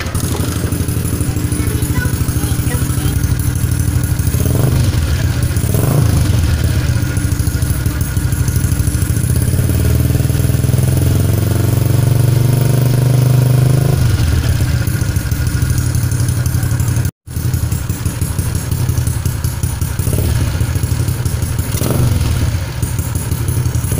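A Yamaha LC 135 motorcycle engine cranks on its starter and catches, settling into a steady, loud close-up idle with mechanical clatter and a brief dropout partway through, running just after a new battery was fitted.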